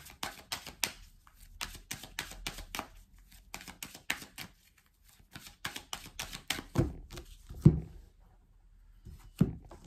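Tarot oracle cards shuffled and drawn for a reading, heard as bursts of crisp card riffling and flicking with short pauses in between, a few louder soft taps near the end as cards are laid down.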